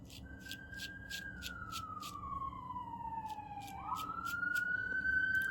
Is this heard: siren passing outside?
yes